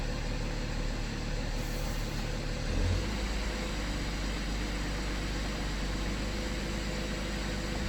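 A BMW F10 with an N57N diesel engine and 356,000 km, idling with the hood open: a steady, even drone without change, close by, with a faint hiss over it.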